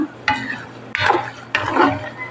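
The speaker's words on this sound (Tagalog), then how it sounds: "antayin muna nating maluto yung ating bawang at yung ating peanut" Garlic and peanuts fry in oil as they are stirred, making three loud, close scraping sweeps over a crackling sizzle.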